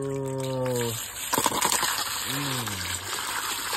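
Water gushes and splashes briefly as fish is rinsed, with a voice speaking before and after.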